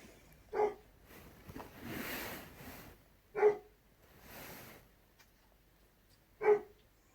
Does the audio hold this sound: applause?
no